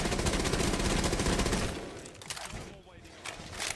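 Rapid gunfire in Rainbow Six Siege, a dense burst of close, fast shots that stops after about two seconds, leaving quieter game ambience and a faint voice.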